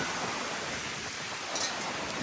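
Heavy rain from Hurricane Lane lashing the Big Island of Hawaii, a dense even hiss of downpour with no breaks, steady and fairly quiet, no voices.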